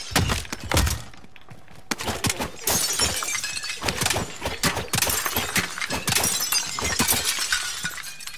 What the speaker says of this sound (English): Start smashing windows and everything.